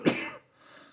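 One short, sharp cough from a person, close and fairly loud, then a faint breathy fade.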